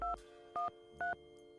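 Touch-tone keypad dialing in the Nancy Drew game The White Wolf of Icicle Creek, three short DTMF beeps at an even pace, close and clear with no talking.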